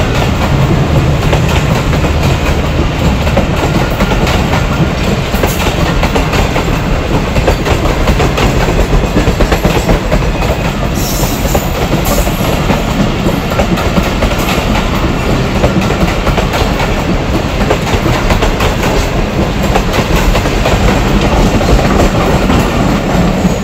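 Fast train passing in hot sunshine, a loud, continuous roar of wheels with a rapid clickety-clack over the rails and brief squeals, very close and sustained.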